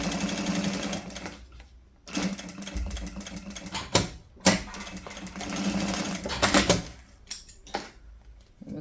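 Domestic sewing machine stitching a fabric panel for a cube-shaped zip pouch, with a half-centimetre seam allowance and a backstitch at the start, running in several bursts of loud, close mechanical whirring separated by short pauses and clicks.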